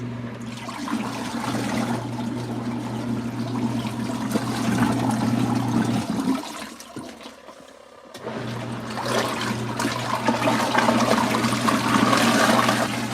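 An LG ThinQ MEGA Ultimate washer churns through its rinse cycle, water sloshing and gushing loudly and steadily with a low motor hum, pausing briefly partway before the surge resumes.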